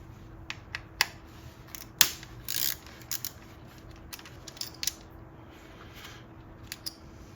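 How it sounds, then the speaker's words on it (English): Ignition coil mounting bolts being loosened on a Nissan Versa, giving faint, sparse metallic clicks and ratchet ticks at irregular intervals in a quiet setting. "So now we'll just remove the coil mounting bolts and then the coils"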